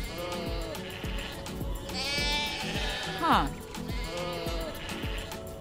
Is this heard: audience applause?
no